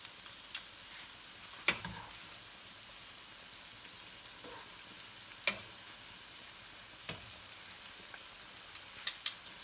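Lasagna pasta sheets fry quietly in a pan after being turned over, giving a soft, low sizzle with a few sharp pops and spatters scattered through.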